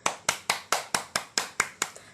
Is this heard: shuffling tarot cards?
no